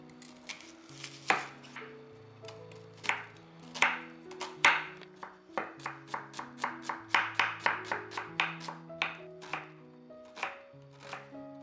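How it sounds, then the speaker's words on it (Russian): A knife finely chops onions rapidly on a cutting board, sharp close taps in irregular bursts speeding into a quick rhythm, with soft music underneath. "И сейчас нам нужно мелко нарезать лук."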